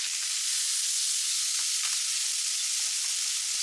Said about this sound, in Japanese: フライパンに合わせておいた調味料を加えて炒め合わせます